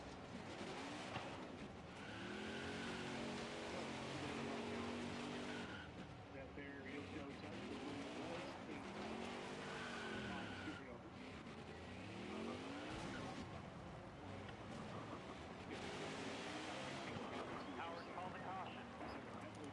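Craftsman Truck Series race at Iowa Speedway, the No. 11 truck spinning through the grass as engines roar and whine past in repeated swells, with a commentator talking over the steady racing din.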